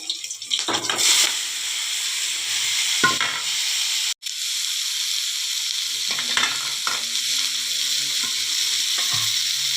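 Chicken fries in a pan with a steady, bright sizzle, broken by scraping stirs and clinks from a utensil, all close and continuous with no talk.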